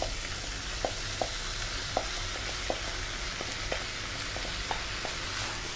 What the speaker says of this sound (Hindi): और अब मैं डालूंगी इसमें मिलेट जो मैंने बॉईल कर लिया था।